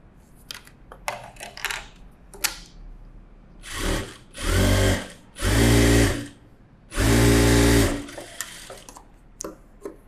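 Sewing machine stitching a one-inch seam on fabric for a front cross cup-shape garment, three sustained motor bursts of about a second each between quieter handling clicks and rustles.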